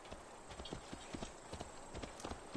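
A horse's hooves clop at a trot in Assassin's Creed Valhalla. The beats come in a quick, steady rhythm and sound faint and somewhat distant, with a low wash of background game sound underneath.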